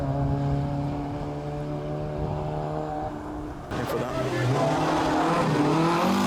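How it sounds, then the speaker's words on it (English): Opel Corsa rally car in the Clubman class running a shakedown stage, its engine note steady and loud before a sudden shift to a rougher, rising roar. "Wayne Tasker in his Opel Corsa would take the group win in Clubman 1"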